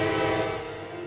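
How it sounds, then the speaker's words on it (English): A train passing with a loud, sustained horn blast, rich steady tones over a low rumble of rolling cars, close and dominant throughout. "You hear these trains go by"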